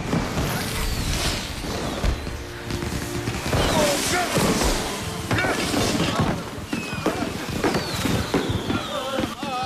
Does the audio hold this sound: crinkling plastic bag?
no